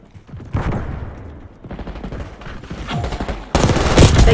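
Dense bursts of rapid gunfire in Call of Duty, on the Stakeout map with a Kompakt 92, rattle loud and close in overlapping volleys, building to a heavier sustained barrage at the end.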